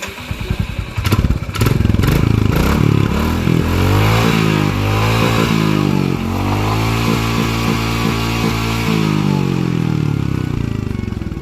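A Royal Enfield Classic 350 motorcycle starts with a clattering crank, then its single-cylinder exhaust settles into a loud, close, steady thumping idle, rising and falling as the throttle is blipped.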